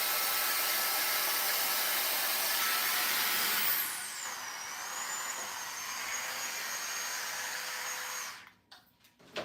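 A wet-to-dry hair straightener blows hot air through hair in a steady, loud broadband rush that holds for several seconds, drops in level partway, then sputters and cuts out near the end.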